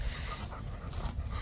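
A dog pants steadily nearby on a cattle farm, quick rhythmic breaths over low rumbling background noise, with no talking.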